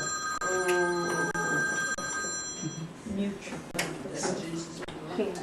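A telephone rings with a repeated electronic bell tone during a spoken discussion of economics and racism, the ringing fairly loud at first and then fading as voices carry on over it.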